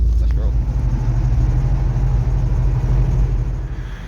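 Car rolling along the road on a weekend drive, a steady low engine and road rumble filling the interior throughout, fairly loud and constant with no talk over it.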